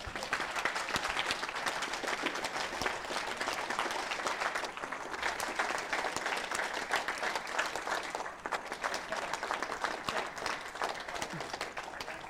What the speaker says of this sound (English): I think we need to give them a round of applause.